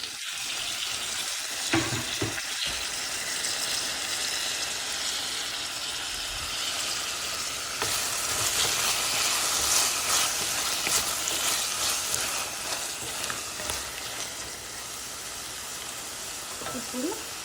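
Onions and tomato fry for an egg puff filling in a pan, giving a loud, steady close sizzle with occasional scraping of a spoon stirring, swelling briefly midway.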